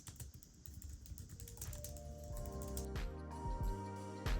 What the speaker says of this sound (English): For anyone curious, here's how it sounds when typing.